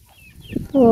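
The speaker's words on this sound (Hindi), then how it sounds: "ये भी यहाँ से मुर्गी हैं, इधर काफ़ी मुर्गे बैठी हुई हैं" Chickens cluck softly nearby in a village, ending in a louder, sustained squawk from one bird.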